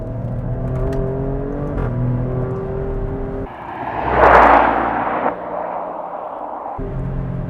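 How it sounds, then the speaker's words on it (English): An Alfa Romeo Stelvio Quadrifoglio's 510 hp engine drones and shifts pitch through gear changes, then revs hard in a loud rising burst on a downshift before settling back to a steady hum. "when you drop down a few gears, oh boy, does it sound good"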